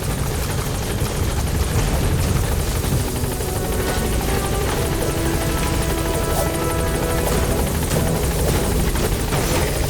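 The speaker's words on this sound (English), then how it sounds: "Support escort helicopter has arrived." A military helicopter's rotor and engine drone continuously at close range in the video game Metal Gear Solid V: The Phantom Pain, a steady thrumming roar with no talking.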